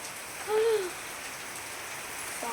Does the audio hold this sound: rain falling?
yes